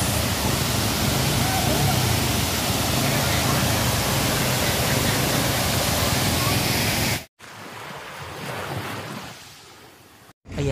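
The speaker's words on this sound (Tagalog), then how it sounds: "Ayan na yung falls." Waterfall at Lamitan City, Basilan: a steady, loud broadband roar of falling water fills the first seven seconds, then drops to a quieter wash with brief cut-outs near the end.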